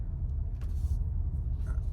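A 2023 Kia Sportage SX Prestige AWD on the road, a smooth low road and engine rumble heard from inside the cabin, steady and moderately loud with a couple of faint higher sounds passing briefly.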